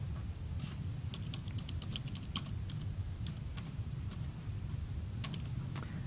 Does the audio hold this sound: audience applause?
no